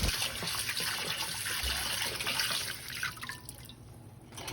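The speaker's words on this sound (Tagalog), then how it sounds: "Hugasan din natin ang 1 tasang malagkit na bigas." Glutinous rice being washed in water, one cup of it, with steady dripping and trickling water close by through the whole stretch and no talking.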